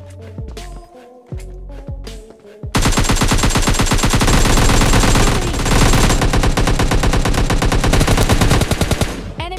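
Mobile shooter game gunfire: a few scattered single shots, then a loud, relentless automatic burst that fires nonstop for about seven seconds, close and harsh.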